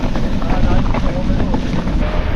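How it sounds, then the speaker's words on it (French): Headwind buffeting a bicycle on a gravel descent during a long 200 km ride, a loud continuous wind roar rushing over the microphone throughout, with a faint voice underneath. "en descente en plus avec le vent de face"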